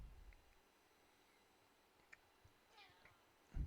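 A pet cat meows faintly a few times in a quiet room during a gaming stream, with short, soft calls spaced apart and a brief louder thump near the end.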